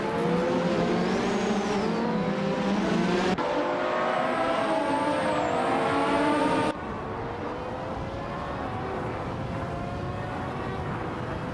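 A 1988 Benetton B188 Formula One car and others race in a video game, engines screaming high and revving up and down through gear changes, with abrupt cuts between loud onboard engine sounds.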